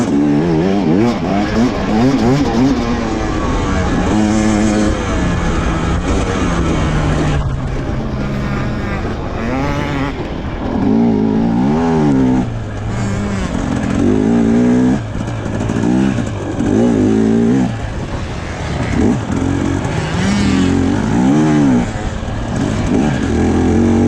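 A dirt bike ridden along a trail at the Frozen Nut event at Thorn Valley Ranch, engine loud and close throughout, repeatedly revving up and easing off through gear changes over a steady wind-blown roar.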